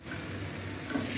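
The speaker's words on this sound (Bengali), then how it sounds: "ঢেঁড়স আমি এইভাবেই ভাজি করি।" Okra frying in oil with salt and turmeric, a dense, loud, continuous sizzle heard close up, with no talking.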